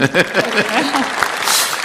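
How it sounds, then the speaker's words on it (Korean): Audience applause at a Korea Exchange event attended by the president, broadband clapping filling the short moment with a voice speaking over it near the start. "네, 박수 한번."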